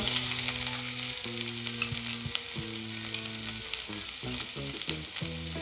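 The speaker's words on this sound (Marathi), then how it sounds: "आता यामध्ये बारीक चॉप केलेला कांदा ऍड करून घेऊया" Finely chopped onion fries in a little oil for a chicken cheese bread roll, giving a continuous close sizzle and crackle with no talking and music playing underneath.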